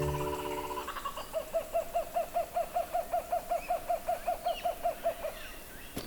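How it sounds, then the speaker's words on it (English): A masked owl calls at night from a high spot above a meandering river: a long, evenly spaced series of about twenty mellow hoots, fairly close and clear above quiet background hiss. "The perfect spot to see if we can call in a masked owl."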